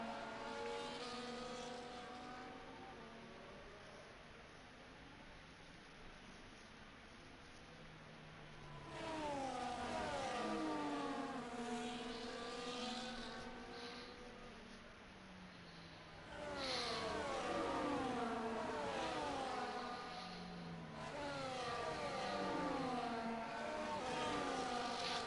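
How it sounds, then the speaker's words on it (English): F1 race cars lapping the Japan circuit in a racing video game, high engine whines rising and falling as cars sweep past in waves, Doppler-like pitch sweeps recurring at intervals over a steady background drone. "enjoying the sound of the cars go around the track"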